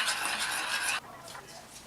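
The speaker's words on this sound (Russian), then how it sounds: "Тщательно размешиваем." Steady scraping and swishing of a utensil working through a thick cold porcelain clay mixture with lemon juice in a bowl, continuous and close, easing slightly halfway through.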